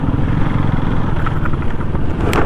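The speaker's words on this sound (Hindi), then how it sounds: "भाई, मेरा बाइक पूरा फुल जोश में आज।" KTM Duke 390 BS4 motorcycle on a group Sunday ride, a loud, close, continuous engine drone and road rumble with faint traffic around it.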